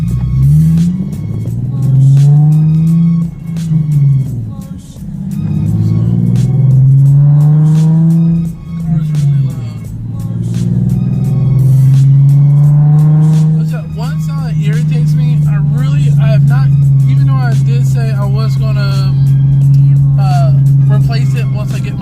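Car engine revving while being driven, with a modified exhaust that has headers and a deleted cat, rising and falling in loud sustained drones throughout, plus some speech-like sounds over it.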